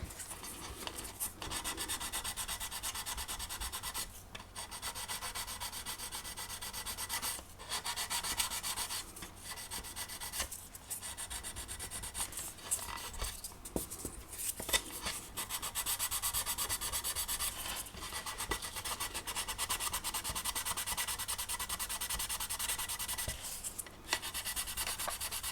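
Hand sanding on the plastic body of a 1/24 MPC General Lee model car, a soft continuous scratchy rubbing with brief pauses, quiet and close, with no talk.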